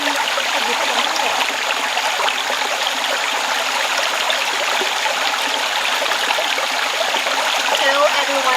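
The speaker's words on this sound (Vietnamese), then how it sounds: "Nước suối rất là trong này." A clear forest stream rushes steadily beside a bushcraft campsite, a loud continuous wash of flowing water with no breaks, heard close up and alone.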